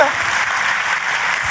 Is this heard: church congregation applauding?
yes